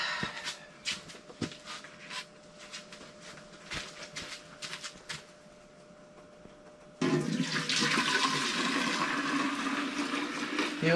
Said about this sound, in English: Then I'm going to pour water in on top of that to mix it all up.